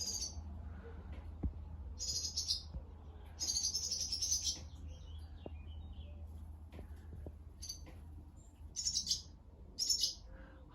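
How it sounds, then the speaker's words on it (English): Small birds nesting inside a building at a wharf give bursts of high, bright chirps that come in short clusters separated by quiet gaps, over a low hum and a few soft knocks. "It's probably my favourite bird"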